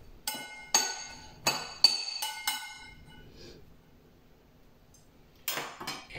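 Cauliflower salad stirred with salt in a glass bowl, giving several sharp glassy clinks in an irregular rhythm, close and fairly loud, then a quiet pause before a last cluster of clinks.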